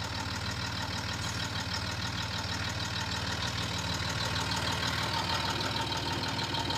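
A Land Rover Discovery 3 with a 2-inch lift idles steadily with a slight knock while its suspension rises to off-road height, a constant close drone with no talk.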